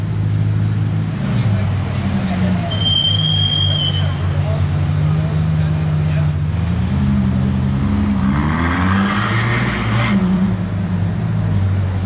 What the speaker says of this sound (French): Un convoi d'une La Ferrari, d'une Chiron, mes deux hypercars préférés, rien que ça.